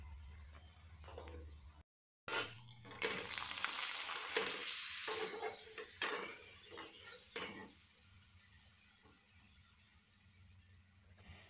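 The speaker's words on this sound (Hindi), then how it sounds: "तो इसी तरह से हम अपने सारे चावल के पापड़ फ्राई कर लेते हैं।" Rice papads frying in hot oil, a steady crackling sizzle with occasional stirring and utensil clatter, fairly faint and close.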